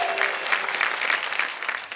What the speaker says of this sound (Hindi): अब आइए जरा जोरदार तालियां बजाइए